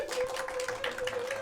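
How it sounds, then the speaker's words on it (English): A small audience at a live album listening session gives a short, faint patter of hand claps that lasts barely more than a second. "Please give yourself a little round of applause for that one."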